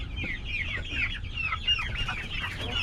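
Dumpo-breed free-range chickens cluck close by in a farm yard, a busy overlapping chorus of short clucks and squawks that runs steadily throughout, with no talking.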